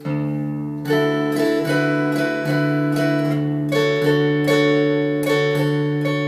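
A guitar is strummed on the top four strings in a steady rhythm, several bright chord strokes ringing clearly one after another with no voices.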